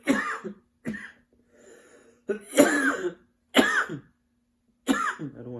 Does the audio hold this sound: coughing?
yes